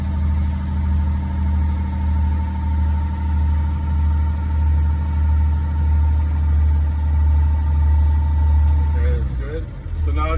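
School bus diesel engine idling steadily to build air brake pressure above 90 psi, a loud continuous low rumble with a faint whine, cutting out briefly near the end.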